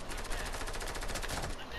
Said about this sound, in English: this fucking bitch will not stop shooting at me